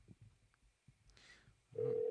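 A phone call connects and a steady ringback tone starts near the end, loud and even, after quiet low rumbling.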